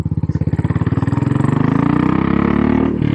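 A Royal Enfield Classic 500 Military single-cylinder motorcycle thumps along a gravel road, its loud, steady pulsing exhaust beat rising slightly in pitch as it gathers speed, close and continuous with no talk.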